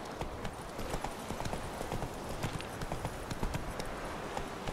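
Horse hooves gallop in the video game The Witcher 3, a steady rapid clip-clop of hoofbeats running continuously at close range throughout.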